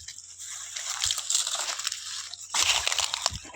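Someone chewing on a stick of sugarcane with a crunching, wet, fibrous grinding up close, steady for a few seconds before a sharper burst of crunching near the end.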